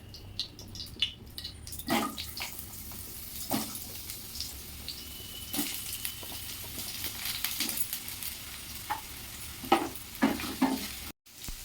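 Potatoes fry in hot oil for a vegetarian mixed-vegetable dish, giving a steady close sizzle with repeated scraping and stirring clatters spaced every second or two.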